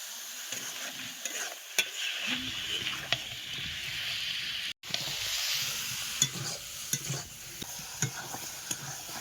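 Whole spices and chilies sizzle and fry steadily in a hot pan, with stirring scrapes and occasional clicks over a continuous hiss, close up, no talk.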